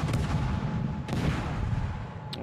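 Heavy naval guns firing in World of Warships, two deep booming blasts about a second apart with rumbling tails, loud and close, with no speech over them.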